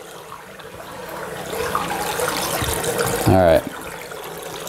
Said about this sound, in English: I slowly dial down the water flow to nothing